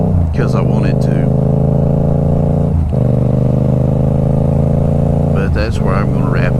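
A motorcycle ride with a steady droning engine running continuously underneath, loud and close, while a rider talks over it at times.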